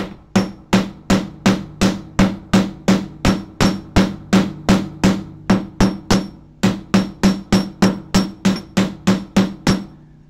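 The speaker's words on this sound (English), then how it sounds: "If you want to hammer it, you can hammer it in the same way." Wire curls on a handmade moon pendant struck with a small jewelry hammer, about twenty sharp metallic taps in a fast, even rhythm with a short pause partway through, loud and close with no voices.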